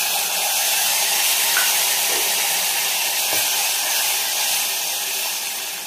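A ground paste of tomato and green chili with ginger hits hot oil and curry leaves, giving a steady, even sizzling hiss that runs throughout with no voices.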